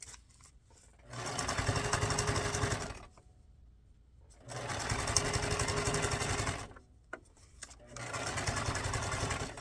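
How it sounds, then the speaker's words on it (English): A sewing machine stitches a lace strip onto a junk journal piece, running in three steady bursts of close, even whirring separated by short pauses. "I'll put this piece of lace right in here. Just sew this on."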